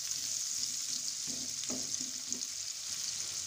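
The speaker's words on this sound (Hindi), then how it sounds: "प्याज को हम लाइट ब्राउन होने तक फ्राई कर लेंगे।" Onions frying in butter until light brown, giving a constant close sizzle with a few light stirring scrapes in the middle; no voices.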